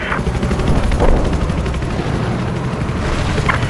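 An enemy helicopter in the video game Battlefield 4 gives a loud, steady, thudding rotor roar throughout, with rumbling battle noise and faint distant gunfire around it.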